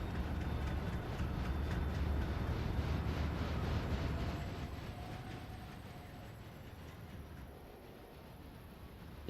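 A freight train rolls in the Railroader game, a steady broadband rumble and roar that swells, then eases slightly toward the end, with a faint tonal line drifting through.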